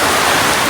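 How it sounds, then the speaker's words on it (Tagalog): Heavy rain pours down in a dense, loud, continuous hiss that fills a brief moment with no other sounds standing out. "kusog kayong ulan, Juno."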